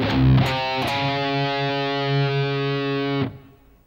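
Distorted electric guitar plays the second measure of a riff, quick palm-muted low-string hits followed by a long sustained chord ringing about two seconds before stopping abruptly.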